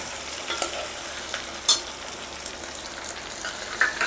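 Onions and potatoes fry with a steady, hissing sizzle in a pan while a utensil stirs them, giving a few scrapes and one sharp clink near the middle, with no voices.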